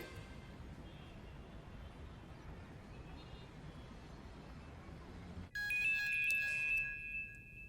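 A mobile phone ringtone in a Hindi action film, an electronic melodic tone that starts abruptly after a stretch of quiet room noise and rings loudly for about two seconds.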